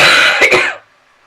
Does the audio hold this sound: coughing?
yes